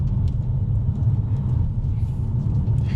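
A low, steady rumble from a used Audi S5 Quattro, the engine note droning evenly with faint higher hiss above it and no talking.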